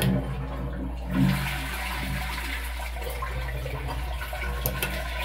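A dual-flush toilet cistern empties with a steady close-up rushing gush of water that holds on without a break, with a brief gurgle early and no speech.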